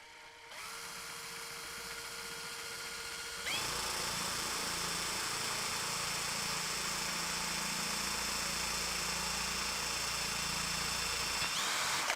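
A power drill whines steadily, then bites into wood and runs louder and harsher for several seconds before spinning down; close by, no talking.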